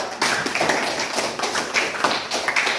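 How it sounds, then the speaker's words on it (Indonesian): A classroom group claps in applause for a presenting team, a short burst of quick, uneven hand claps at close range. "tepuk tangan buat kelompok 2"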